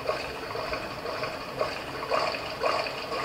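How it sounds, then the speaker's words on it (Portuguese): Steady running water in the horror video game The Malevolent Mansion of Evil, a continuous hiss-like flow with faint splashy surges, fairly loud and alone without voices. "Esse barulho de água tá entrando dentro da minha cabeça, mano."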